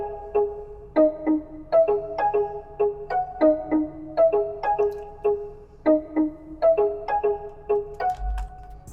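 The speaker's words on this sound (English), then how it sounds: "we got this other piano preset from Nexus. This is a cool little preset. Called Diamond right there" Nexus piano preset called Diamond plays a bouncy melody of bright, plucked notes with sparkling chime-like overtones, steady rhythmic phrases repeating over about nine seconds, alone with no talking.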